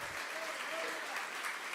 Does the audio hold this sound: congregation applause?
yes